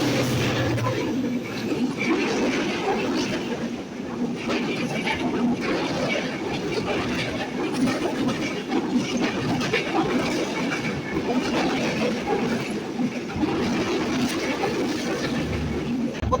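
The broad-gauge Ekota Express runs through Sharatnagar station as a continuous loud rumble with rhythmic wheel clatter. It sounds close and steady throughout, with faint voices mixed in underneath.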